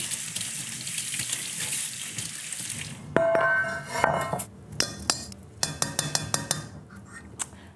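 Tap water runs steadily, then quinoa is rinsed and swished in a metal sieve or pot, with repeated clinks and rattles close by.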